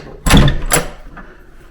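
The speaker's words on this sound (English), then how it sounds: "Oh my goodness, that door's stiff." A stiff old door at a historic seminary is forced open with two heavy thuds and scraping knocks in quick succession, close and loud, then fades into a quiet room.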